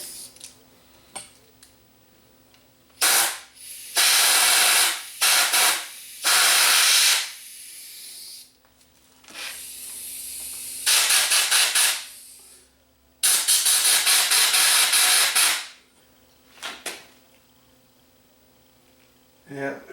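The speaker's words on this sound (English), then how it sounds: "I'm gonna get in there with some compressed air and see if I can blow it out." Compressed air blowing dust out of an Epson Pro Cinema 6030 LCD projector during a teardown, loud close hissing bursts of varied length, about six blasts separated by quieter gaps with faint handling noises.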